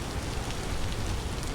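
Rain falling in the video game Vintage Story, a dense steady hiss of rainfall with no breaks, even and moderately loud throughout, with no talk.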